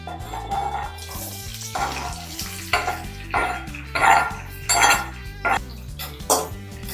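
Onions and green chillies frying in a pan with cumin while making beef fry, heard as a sizzle broken by repeated clanks and scrapes of a utensil stirring against the metal pan.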